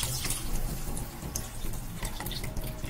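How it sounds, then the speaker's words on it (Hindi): A cup of milk is poured into cooked, nearly dry pumpkin for pumpkin barfi, making a continuous close splashing, gurgling pour with small irregular spikes. "इसमें हम एक कप दूध डालेंगे।"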